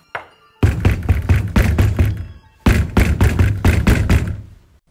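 Two bursts of rapid, heavy knocking on a door, about five or six loud thuds each with a brief pause between, close and booming.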